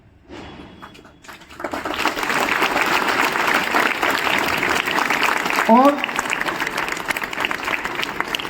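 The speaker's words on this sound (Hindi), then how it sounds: "थोड़ी अजी ताली बजा रहे, ढंग से बजाओ।" Sustained applause from an audience at a farewell ceremony at BPS Pilani, starting after a quiet opening and holding steady, loud and dense, with a brief voice rising over it near the end.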